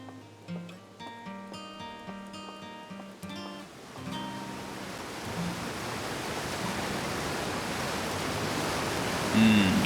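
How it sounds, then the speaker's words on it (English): Music fades out as a loud waterfall roar rises into a dense, steady rush that grows slightly stronger toward the end, heard in the video game Outer Wilds. "Loud waterfall."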